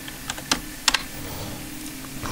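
A handful of sharp computer keyboard key presses, close by, spaced irregularly with short pauses between clicks over a low steady hum.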